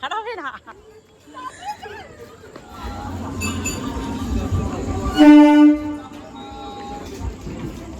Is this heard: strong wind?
no